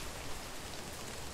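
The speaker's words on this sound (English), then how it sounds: "It's raining." Rain falls steadily in The Search for Sasquatch video game, a dense, even hiss of drops on surfaces, with no voices over it.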